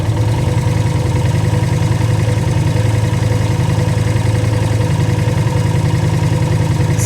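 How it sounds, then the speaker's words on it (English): A Suzuki VL250 bobber motorcycle with 48mm pod filters and a freshly adjusted idle screw idles evenly, holding a smooth, steady low rumble up close with no stumbling or revving throughout. "Bike's idling nicely, smoothly, not stumbling."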